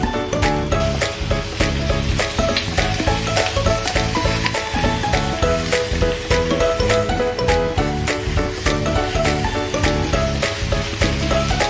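Bak choy stir-fries in a wok with chopped ginger, chilies and garlic, loud continuous sizzling with rhythmic scraping and clattering of the spatula over a steady backing of music.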